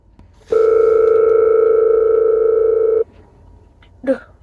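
A single long telephone ringing tone sounds for about two and a half seconds, steady and loud, then cuts off, followed by a brief faint noise afterward.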